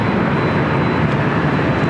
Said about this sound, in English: Arizona 747-400 freighter taking off there on the south side